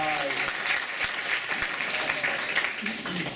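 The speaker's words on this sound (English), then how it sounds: "Round of applause." Sustained applause from an audience at a gaming player summit costume design workshop, a dense steady clapping wash lasting several seconds with faint voices mixed in.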